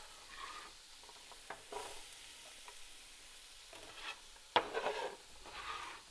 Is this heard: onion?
yes